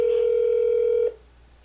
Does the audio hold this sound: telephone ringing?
yes